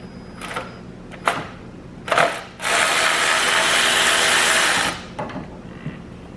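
A hand ratchet works on the ignition coils of a car engine during a spark plug and coil change: a few short clicking bursts, then one sustained ratcheting run of about two seconds, close and clear, with no speech.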